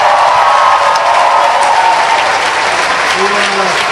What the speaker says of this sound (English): I'll wait for the applause to die down